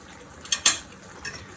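Salmon being put back into a pan of creamy wine sauce with spinach, heard as two quick clinks of utensil against pan and then a softer knock, close and brief against a quiet background.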